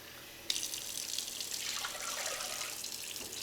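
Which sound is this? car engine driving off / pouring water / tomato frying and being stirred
pouring water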